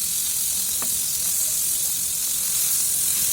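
Marinated beef steak sizzles loudly and steadily in hot butter in a pan, a constant bright hiss filling the whole moment with a faint clink early on.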